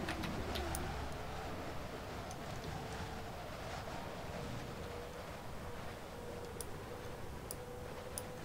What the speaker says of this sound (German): diese extremen Windgeräusche